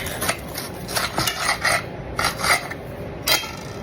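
A knife saws back and forth through a crisp grilled cheese sandwich made with salted butter and American cheese, producing a series of close, rhythmic raspy crunches with short pauses between strokes and no talking.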